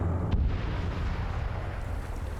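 Distant gunfire rumbles in an Arma PvP firefight between Blufor and Opfor forces, a muffled low boom with a sharp report near the start, then a sustained low battle rumble, fairly quiet overall.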